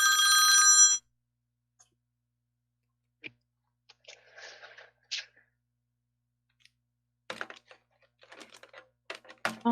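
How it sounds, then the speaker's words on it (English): A telephone rings for an incoming call, one bright electronic ring burst of about a second, followed by quiet room sound with scattered keyboard taps and clicks. "Hold on a minute, I got a phone call"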